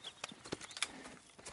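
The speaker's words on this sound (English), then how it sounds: "I've been meaning to offload this big Shire horse for a while now." A big Shire horse in Red Dead Redemption 2 clip-clops along, with faint, scattered hoof strikes in a loose rhythm and a few light bird-like chirps, with no talk.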